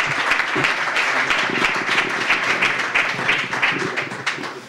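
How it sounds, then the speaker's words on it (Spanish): Warm applause from an audience at a Guadarrama town council candidate's campaign event, close and sustained crowd clapping with a few sharp nearby claps, tapering toward the end. "Quiero pedir un aplauso para ellos por su gran esfuerzo."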